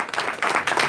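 Brief burst of applause from a crowd at a post-fight press event for Crawford vs Horn, dense clapping swelling and dipping across a single second with no voices on top.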